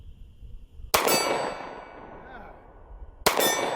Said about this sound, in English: Let's take a few shots at that steel.